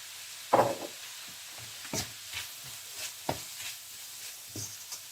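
Vegetables with Sri Lankan curry powder sautéed in a pan for proso millet vegetable pulao, a faint low sizzle under sharp spatula scrapes and knocks repeating every second or so, close by.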